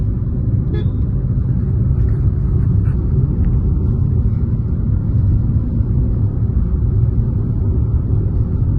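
A steady, loud low rumble fills the cabin of a car being driven on a trip to Paradeep, with constant road and engine drone throughout and a faint brief tone early on.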